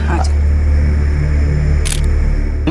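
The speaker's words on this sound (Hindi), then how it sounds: "आ जाओ जरा ये फोटो खींचो फटाफट" A camera shutter clicks during a quick group photo, with a brief sharp burst near the end over a steady low hum and nearby voices.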